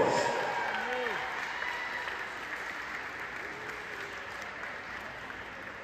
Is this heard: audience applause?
yes